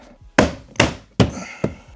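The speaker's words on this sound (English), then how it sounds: "Trim pieces back on." Four firm thunks land about every 0.4 seconds as door trim pieces are pressed back into place on an Audi Q7 door, close and loud with no talking.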